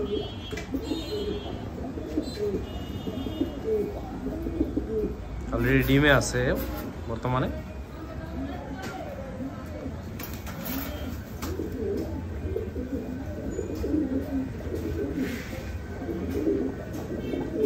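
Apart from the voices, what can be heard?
red Lahori fancy pigeon cooing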